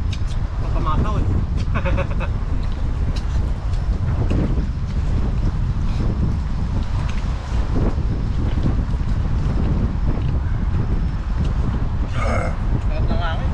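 Strong wind buffets the microphone in a continuous loud roar with gusty surges, heard outdoors near water, with people talking at times underneath.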